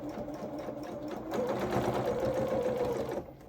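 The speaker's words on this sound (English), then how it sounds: "So a couple of stitches forward, and then let's go back off the end" A domestic sewing machine stitching fabric coveralls for a toy outfit, a close, steady mechanical whirring with rapid rhythmic needle clatter that speeds up midway and then slows to a stop.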